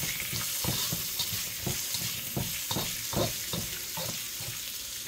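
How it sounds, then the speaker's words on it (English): Bok choy stir-fried with Szechuan and black peppercorns sizzles loudly and steadily in a hot pan, with a rhythmic scrape of stirring pulsing through the hiss every half second or so. "I'm going in with some Szechuan and black peppercorn mix."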